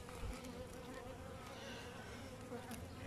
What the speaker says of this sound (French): je vais vous mettre des abeilles